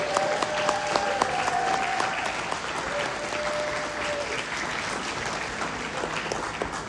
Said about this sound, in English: Can you guys please give them all a big round of applause?